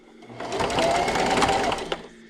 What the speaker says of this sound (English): I'm just going to move my needle over to the left, and I'm going to back stitch